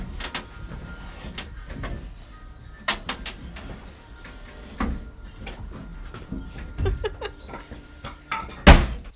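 A car door is opened in a workshop during a vehicle build, marked by a string of sharp clicks, clunks and thumps scattered over several seconds, the loudest near the end.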